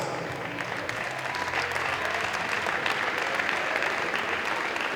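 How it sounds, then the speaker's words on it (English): Steady applause from a large crowd at a men's volleyball championship final, dense and continuous clapping at an even level throughout. "Let's give them all a round of applause."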